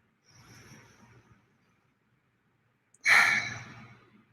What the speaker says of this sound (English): taking long, deep, slow breaths in through our nose